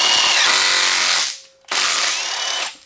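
Rapid ratchet clicking while ARP bolts are tightened on an aluminum small bore stroker engine, loud and close, in two bursts with a brief pause between them.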